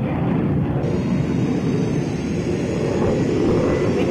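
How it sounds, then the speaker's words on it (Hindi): A MiG-21 fighter jet's engine roars at an air force base, a dense, steady, loud broadband rumble with a hiss on top, sustained throughout with no talking. "V-21 विमान में अभिनंदन इस वक्त बैठे हुए हैं और उड़ान भरने के लिए पूरी तरह तैयार"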